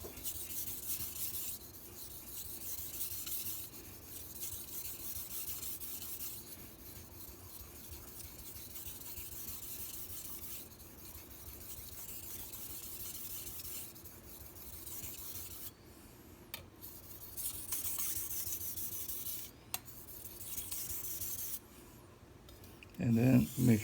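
A MAC chef knife is rubbed on a 2000-grit whetstone to remove the burr, giving faint, soft scraping strokes in a repeated rhythm with brief louder bursts near the end.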